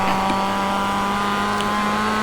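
A 2016 Mazda MX-5 screams at high revs on the Lime Rock track, a loud sustained engine tone that holds steady and close throughout with no speech.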